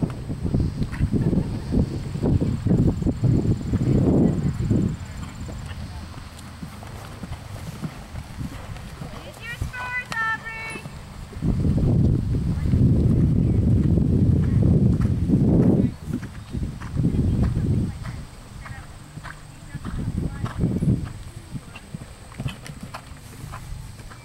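A 17-year-old horse walking with steady, rhythmic hoof clip-clops that come and go in bursts, alongside people talking nearby.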